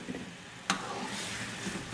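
Tuar dal frying in a pan, with a steady soft sizzle and a single sharp scrape of a spoon turning it.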